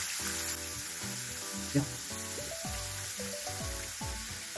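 Pork pieces sizzle and caramelize in a pan for pochero, a Filipino pork stew with bananas, giving a steady frying hiss under melodic background music while someone briefly speaks.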